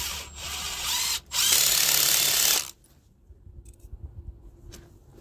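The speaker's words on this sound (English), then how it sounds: "And then I can start putting screws in." A power drill drives screws into a cut tire during an Earthship build. It whirs in two loud bursts with a brief gap between them, then falls away to faint handling noises.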